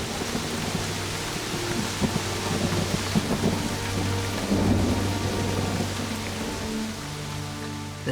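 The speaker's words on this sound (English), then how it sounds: "In the space of just a few hours, over 2 inches of rain soaks the parched ground." Heavy tropical rain pours onto parched ground in a dense, loud, continuous roar, with low thunder rumbling underneath throughout.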